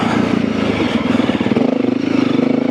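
A Honda CRF300L dirt bike with a 42-tooth rear sprocket cruises in third gear at about 15 mph, its engine note a loud, steady, pulsing drone close to the microphone.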